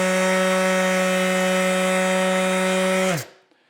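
DeWalt electric sander motor recorded up close, a loud steady high-pitched whine with strong tonal harmonics that winds down abruptly into silence after about three seconds.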